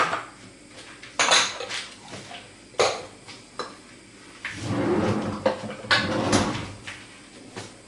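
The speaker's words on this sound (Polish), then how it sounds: "Rozpuszczamy miód i masło." Honey and butter melt in a pan, heard as clinking pots, pans and utensils with intermittent metallic knocks and scrapes at close range, with no talking.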